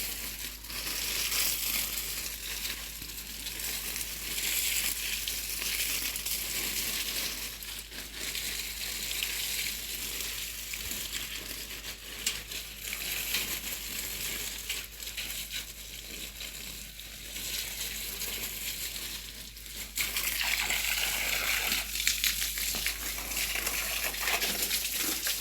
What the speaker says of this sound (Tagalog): Tuloy lang tayo magdidilig ng ating halaman,